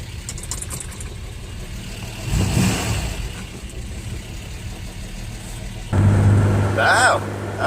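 An old first-generation Ford Ranger engine starts, then revs up in a loud burst before settling into a rough idle, followed by a second sharp rev near the end, with a voice talking over it.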